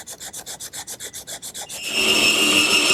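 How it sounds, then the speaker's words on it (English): Rhythmic hand sanding on wood, about fourteen quick back-and-forth rasping strokes, then a steadier, louder continuous scrubbing toward the end. "A little hand sanding will clean up those areas."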